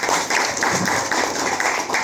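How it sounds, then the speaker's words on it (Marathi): An audience claps at a book launch, a soft, scattered patter of hands across a couple of seconds at moderate distance, with no voices over it. "या सर्वांसाठी टाळ्या झाल्याच पाहिजे"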